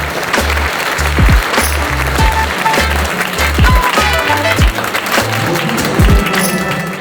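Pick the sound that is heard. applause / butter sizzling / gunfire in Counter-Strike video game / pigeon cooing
applause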